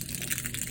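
Water gushing steadily from a Zoo Flush gun, a dual water-and-air cleaning gun in an automotive shop, a continuous loud hissing rush with no break.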